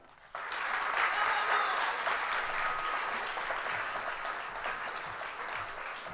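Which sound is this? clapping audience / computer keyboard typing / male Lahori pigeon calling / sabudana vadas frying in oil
clapping audience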